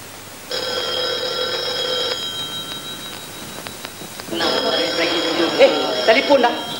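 An old telephone rings in a 1962 Malay film scene, two long trilling bursts of bell ringing separated by a short pause, the second overlapping with a voice speaking, over faint room hiss.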